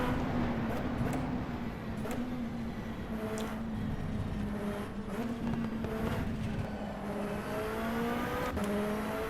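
A race car engine from rFactor 2's EnduRacers mod drones loud and steady throughout, with pitch rising and dipping through repeated gear changes and brief sharp clicks between them.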